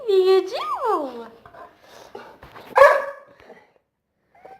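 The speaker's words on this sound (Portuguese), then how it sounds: "ele só late quando ele quer carinho" A pet dog gives a few yipping, whining barks up close, the calls rising and falling, with someone talking around them in a quiet home.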